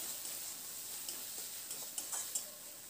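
Spice paste with mustard being stirred and sautéed in a pan gives a steady soft sizzle with a few brief scraping ticks of the spoon near the end, fairly quiet, no talking.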